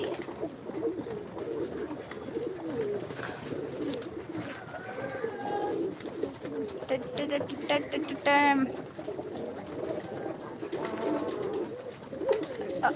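Pigeons coo repeatedly close by, their soft rolling calls running under steady conversation from people nearby.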